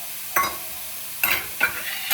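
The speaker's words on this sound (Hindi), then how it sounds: "अभी गोभी भूज रही है, गोभी को भूजते भूजते इसमें मसाला डाल देते हैं।" Cauliflower frying in a pan while being stirred, with a soft steady sizzle underneath and three sharp bursts of scraping and stirring standing out, close and fairly loud.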